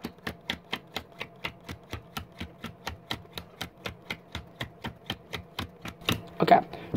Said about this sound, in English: We're going to remove 27 cards, so let's do that now.